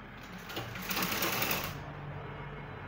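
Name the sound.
sewing machine stitching a zipper on a gown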